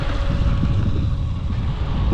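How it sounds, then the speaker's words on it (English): Wind buffets the microphone outdoors during a run of a UDIRC Arrow 5 RC boat: a steady, dense low rumble that holds without a break for the whole stretch, with no voices. "This wind, guys, I really don't like it."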